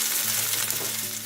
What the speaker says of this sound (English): I will fry the onion